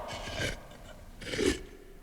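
A penknife working off a thermostat cover, giving two short, close rasping scrapes separated by a brief pause.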